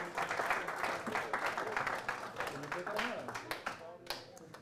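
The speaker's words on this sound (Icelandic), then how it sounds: "Gefið þeim gott klapp." A crowd at an Icelandic handball awards ceremony applauds the referees, a sustained patter of many hands, moderately quiet, with chatter mixed in and the clapping thinning toward the end.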